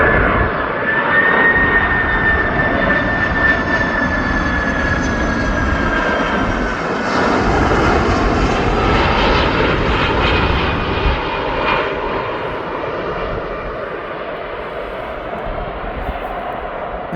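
An Atlas Air cargo jet arriving from Miami lands at East Midlands Airport, a steady loud engine rumble with a high descending whine that swells as it passes near, then eases off after touchdown.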